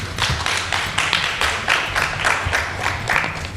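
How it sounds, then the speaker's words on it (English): An audience applauds a panel speaker at an event, a steady burst of close clapping lasting the whole moment with rhythmic swells and no talking over it. "Another loud round of applause,"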